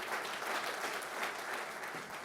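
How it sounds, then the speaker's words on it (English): An audience at a presidential summit and official launch breaks into dense, continuous applause for Dr. Vera Songwe, a full wash of many hands clapping at once, steady and moderately loud with no voices over it. "ladies and gentlemen, let's give her a round of applause as well."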